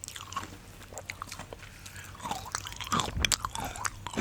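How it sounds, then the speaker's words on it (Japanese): Chocolate is bitten and chewed close to the mic with crisp, irregular crunches that grow denser toward the end. There is no talk over the crunching. "チョコが めっちゃいい音。"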